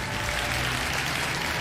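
A big round of applause from a crowd, steady and dense with no voices over it, filling the short moment from start to finish.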